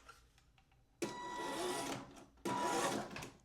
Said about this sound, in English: The winding noise, the gears mashing from the FJ is much louder.